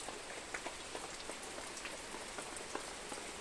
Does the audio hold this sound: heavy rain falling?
yes